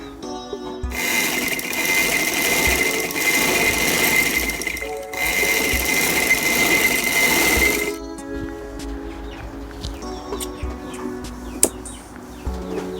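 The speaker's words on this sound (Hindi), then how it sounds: "ये हमारे पास कंधे की स्टिचिंग हो गई। ये देखें, ये हमने सिलाई लगा ली।" A sewing machine stitches the shoulder seams of a shirt, running loud and steady in two close bursts with a brief pause between, then falling to quieter fabric handling and clicks.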